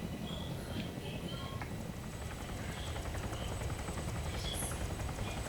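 A steady, rumbling rotor drone with a faint whine continues throughout from a helicopter flying close by in a video game, with occasional small clicks on top.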